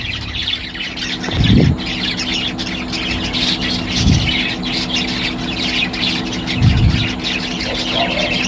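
Colorful pet birds in a small cage keep up a dense, busy chirping and twittering close by, with a few soft low thumps from the cage scattered through it.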